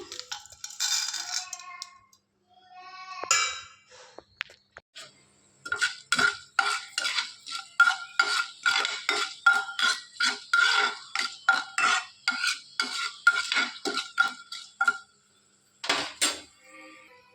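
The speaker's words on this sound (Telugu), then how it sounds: "దీంట్లోకి శనగబ్యాళ్ళు, ఉద్దిబ్యాళ్ళు, జీలకర్ర, ఒక మిర్చి అండి, ఎండుమిర్చి వేసేద్దాము." Chana dal, urad dal, cumin and chillies going into hot oil, with quick, close clinks and crackles in a dense rhythmic run of sharp ticks, scattered sounds before and after, and no voices.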